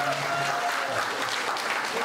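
Wedding guests applauding at a reception, a dense continuous clapping that holds steady for a couple of seconds with faint voices beneath.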